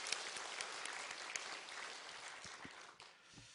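A church congregation at a Sunday worship service claps together in a steady, dense burst of applause that fades slightly toward the end, with no voices over it.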